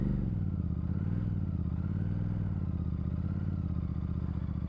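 Royal Enfield Super Meteor 650 motorcycle exhaust burbles steadily at low speed, a continuous deep rumble heard from the rider's position, with wind noise over it and no speech.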